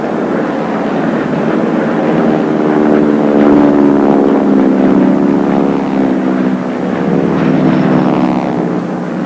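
A propeller aircraft performing at the 1986 Biggin Hill air display, its loud steady engine drone rising and falling slightly in pitch as it passes close by, with no talking.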